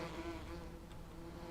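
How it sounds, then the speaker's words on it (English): Bees buzz steadily in the farming video game Farming Simulator 17, a low, continuous droning hum at quiet level without pauses, and no speech over it. "Man, we're really working them bees, eh?"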